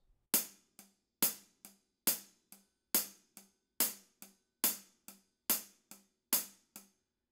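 Hi-hat struck with drumstick shank then tip, producing about nine evenly spaced pairs of strokes: a bright, louder crash-like chick followed quickly by a lighter tap, each ringing briefly in quiet surroundings.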